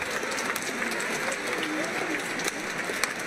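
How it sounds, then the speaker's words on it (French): Steady applause from a church gathering, a dense continuous patter of many hands, with voices murmuring underneath. "Joseph qui applaudit"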